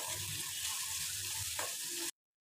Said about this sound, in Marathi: वाटलेल्या वाटणामधलं आपण 2 चमचे यामध्ये टाकून छान असं परतून घेणार आहोत